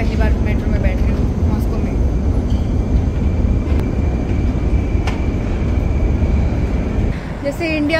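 Riding a Moscow metro train, a steady loud rumble and whoosh of the carriage runs throughout, with faint squeals and someone speaking over the noise.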